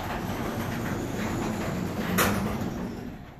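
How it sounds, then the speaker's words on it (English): A motorized garage door opening, a continuous rumbling mechanical drone with a rattling, track-like clatter that swells slightly near the end before easing off. "And you can hear the garage door opening behind me."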